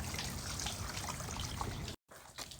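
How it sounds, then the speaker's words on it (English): Water trickles steadily through the trunk leak drain channel of a DC2 Honda Integra and out the end, a soft continuous close dribble that briefly cuts out near the end before resuming. "you can actually hear the water running through and coming out on the end"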